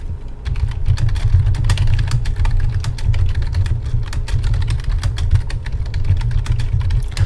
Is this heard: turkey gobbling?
no